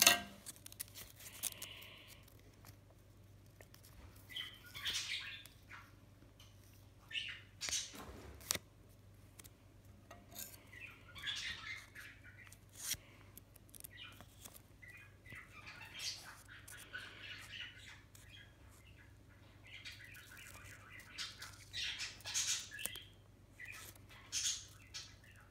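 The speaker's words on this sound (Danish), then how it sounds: "Så kan du klippe en lille smule mere." Scissors snip through paper while making a paper Easter bunny, with short repeated cuts and crisp rustles at close range, and a few quiet bursts throughout.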